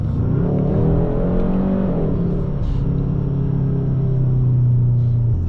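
A 2021 Hyundai Sonata N Line engine held at high revs inside the cabin gives a loud, continuous droning rumble with a faint whooshing vacuum-like whir on top, with no talking.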